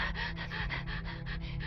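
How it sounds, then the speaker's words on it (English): A person breathes in a quick rhythmic run of short, close breaths, heard alone and fairly soft. "I hear my breathing"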